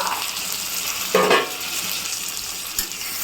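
Stuffed bitter gourd fry stirred in a pan, a soft steady sizzle with one louder scraping stir burst in the middle and a brief clink near the end.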